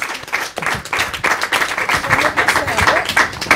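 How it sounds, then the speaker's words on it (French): Applause from an audience at an educational television event, brisk and fairly close, a steady patter of many hands clapping for a few seconds with some voices mixed in. "On les applaudit très très fort."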